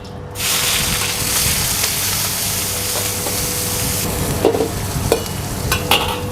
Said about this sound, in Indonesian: Kita masukin bombay.